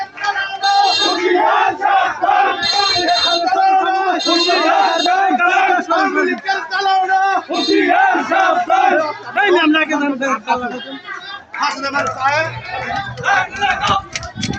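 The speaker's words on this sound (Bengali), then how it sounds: "আল্লাহ স্লোগান" A large crowd chants religious Allah slogans in unison, loud and close, with rhythmic rising shouts and roaring voices overlapping throughout.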